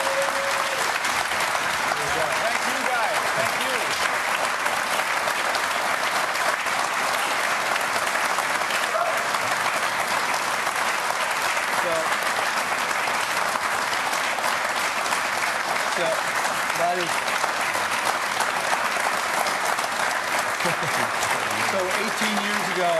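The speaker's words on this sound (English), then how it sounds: "A round of applause for them." Loud, sustained applause from a large TV studio audience fills the whole stretch, a dense unbroken wash of clapping.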